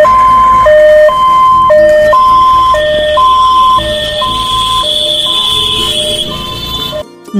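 A loud ambulance siren for an ICU-equipped ambulance service in Durgapur alternates two steady tones in a regular back-and-forth pattern for several seconds, then cuts off abruptly.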